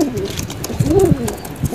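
A young male tournament pigeon coos close by, a soft low throaty burble swelling in the middle of the moment, with faint background noise.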